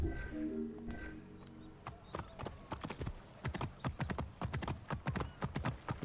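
Horse hooves clip-clop in Assassin's Creed Origins, a steady rapid run of close, crisp footfalls that starts after a brief stretch of other game sound and carries on to the end.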